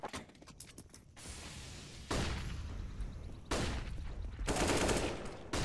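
Rapid bursts of gunfire from a Counter-Strike: Global Offensive match, with a quick flurry of close shots at the start followed by longer, louder sustained volleys and thumping reports.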